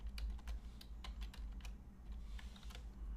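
A password being typed on a computer keyboard: a quiet, irregular run of light key clicks over a low, steady background hum, with no talking.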